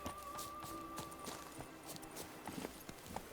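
Hooves of a horse in The Witcher 3 video game clop in a steady, moderately quiet walking rhythm over soft game ambience, with no speech.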